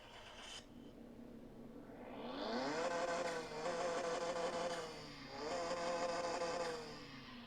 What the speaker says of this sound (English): this car should sound like that because this is a Ford Fusion